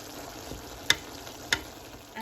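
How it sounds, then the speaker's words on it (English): Long beans stir-fried in a pan for Filipino adobong sitaw give a soft, low sizzle close by, broken by two sharp clinks of a utensil against the pan about half a second apart. "Stir it."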